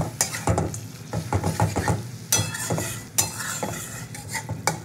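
Fried potato, eggplant and peanuts being stirred into cooking greens in a pan, with repeated scraping and clattering of a spatula over a soft continuous sizzle.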